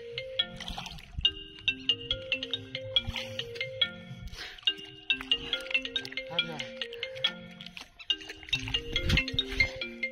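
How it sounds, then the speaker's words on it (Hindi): A mobile phone rings over and over with a repeating electronic melody, moderately loud and steady for about ten seconds, during net fishing beside water. "तेरी लुगाई गई फोन आ रहा बार बार"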